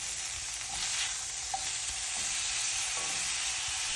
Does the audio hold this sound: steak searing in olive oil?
yes